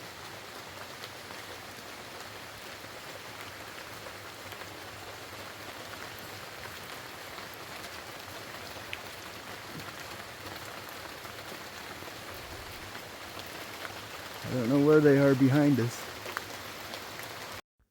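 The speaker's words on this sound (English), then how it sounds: "You can hear the rain falling." Rain falls steadily on the rainforest canopy along the Manoa Falls trail on Oahu, Hawaii, a soft continuous hiss heard from beneath the trees, with a voice speaking briefly near the end.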